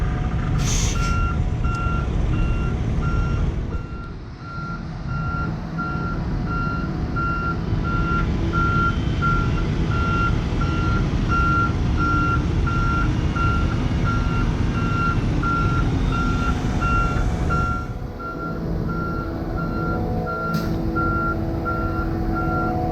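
Wrecker tow truck reversing near a concrete pumping job, its backup alarm beeping in a steady regular rhythm over a loud rumbling diesel engine, with a brief hiss of air brakes.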